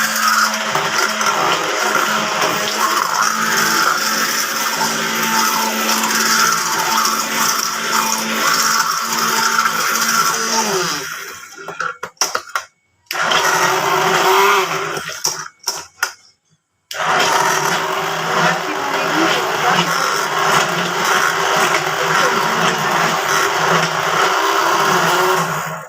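A mixer grinder whirs loudly as it grinds urad dal, a sustained high motor whine that cuts out and restarts in short bursts partway through, then runs steadily to the end.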